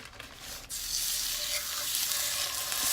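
Pork loin sizzling steadily in a hot pan with vegetable oil, a loud continuous hiss and crackle that swells after a brief quieter start.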